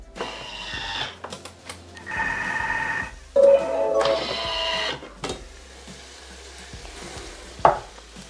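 Bay leaf and rosemary sauté inside a Thermomix (TM6, TM5 or TM31) bowl at 120 degrees on speed 1, with bursts of whirring motor and sizzle broken by short pauses and an occasional sharp clunk.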